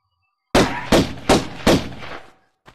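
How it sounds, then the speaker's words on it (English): Four evenly spaced gunshots ring out in the Tomb Raider VR game, each loud and sharp with a short echoing tail, followed by a faint final pop after a brief pause. "Can't I solve this puzzle just by shooting?"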